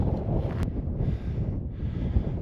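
Strong wind in Death Valley buffeting the microphone, a continuous loud roaring rush with gusty swells and no voices.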